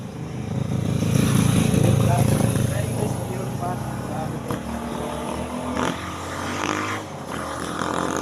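A motorcycle engine drones loudly nearby at night in an outdoor area, a steady rumble that swells in the first seconds and then holds under faint background noise.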